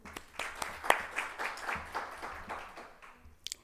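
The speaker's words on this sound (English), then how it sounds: "Please again give a warm applause to Dr." An audience at a leadership event in Kuwait applauds a speaker, with a brief, modest patter of clapping that fades out, a louder clap near the end and some faint voices mixed in.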